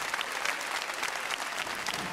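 A large audience at the Las Palmas de Gran Canaria carnival gala applauds for Yaguaribe, a loud, dense, continuous wash of clapping filling the whole moment.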